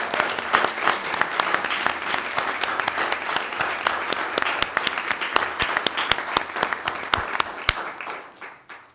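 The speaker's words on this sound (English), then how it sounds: "So how about a round of applause for these outstanding directors that are with us tonight?" School board meeting audience claps for outstanding music directors, a sustained round of crowd applause with sharp individual claps standing out, tapering off near the end.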